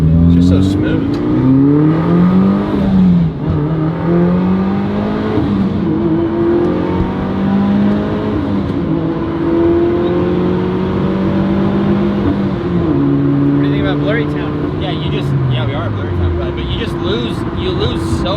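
A Mitsubishi Evo wagon's turbocharged engine pulls hard in fourth gear, loud rising and falling engine tones heard from inside the car while people talk over it.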